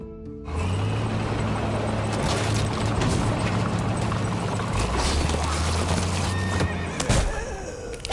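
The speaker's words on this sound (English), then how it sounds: "Someone's on a horse." Horse in The Walking Dead video game neighing as hooves clatter, amid a busy, loud game mix with mechanical rattling, a steady low hum and a sharp thump near the end.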